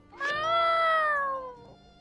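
A cat in the video game My Time at Sandrock gives a single clear, drawn-out meow that rises slightly and tails off, heard alone at moderate volume.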